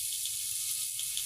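Meat sizzles steadily on a hot sac griddle at an outdoor grill, a dense, continuous frying hiss heard close up with no break.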